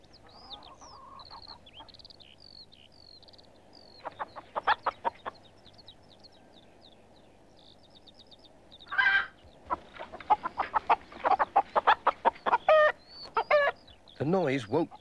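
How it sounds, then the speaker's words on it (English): Hens cluck in a busy, irregular burst of sharp clucks and squawks, growing louder and denser toward the end, preceded by quieter chirps and a softer stretch. "But Mrs. Thompson's hens were wide awake"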